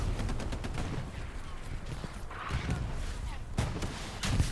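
Tank cannon and small-arms fire in a World War II shooter game's tournament match on the Foy night map, a steady rumble broken by repeated sharp shot bursts, with a commentator talking over it throughout.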